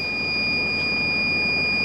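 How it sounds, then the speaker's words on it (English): A lorry's load-weight warning alarm sounds inside the cab on a night shift at road works, a steady high electronic tone held over a constant engine rumble, with no talking. "That's just an alarm saying we've got weight on."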